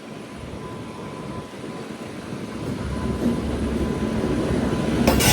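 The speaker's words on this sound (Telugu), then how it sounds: "SCR locomotive WAP 7." Vivek Express passenger train hauled by a WAP 7 electric locomotive of the South Central Railway, heard as a steady rolling rumble with broadband noise that slowly grows louder as it nears, with no voices.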